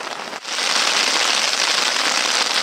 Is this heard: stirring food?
no